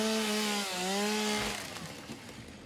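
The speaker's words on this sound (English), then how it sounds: "Now I do have a chainsaw" A chainsaw in a video game buzzes at a steady, high-pitched idle, then bites into wood and turns to a rougher, choppier grinding as it cuts.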